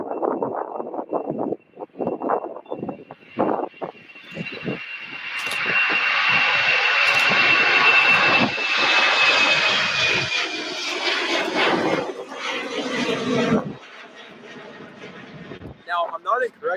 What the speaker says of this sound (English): This is a Breeze E190 going to Raleigh Durham. We're going to go ahead and get this takeoff.